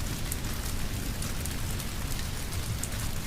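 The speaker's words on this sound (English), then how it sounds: "please enjoy the sound of quiet rain, distant thunder as you drift off to sleep" Quiet rain falls steadily and evenly, a dense close patter on surfaces that carries on without pause or voices.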